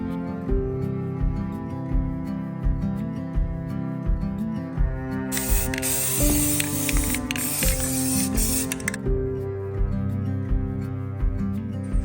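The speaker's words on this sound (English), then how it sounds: "It's spray painting a coat rack" An aerosol can sprays paint onto a coat rack in a long continuous hiss over a droning, tonal background hum.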